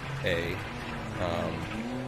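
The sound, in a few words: Renault Alpine A110 rally car engine, DiRT Rally 2.0 video game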